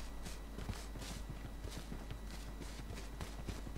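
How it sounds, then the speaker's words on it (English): Rapid in-game footsteps from a player character in the battle royale game H1Z1, loud, quick and evenly paced crunchy steps running continuously over a low steady background hum, with no talking. "But our footsteps are super fucking loud"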